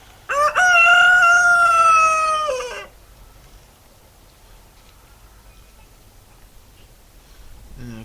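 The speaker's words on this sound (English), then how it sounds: "The chickens are really excited about life." Chickens in a spring garden let out one loud, close crow with clucking at the start, then fall quiet and leave faint background noise for the rest.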